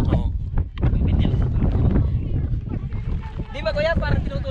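Strong wind buffets the microphone with loud low rumbling gusts while people talk over it, at a crater near Taif, Saudi Arabia.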